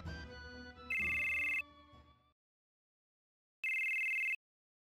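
A cell phone rings in the video game Final Fantasy VII, with two bright, steady electronic tones separated by silence, after a fading musical passage.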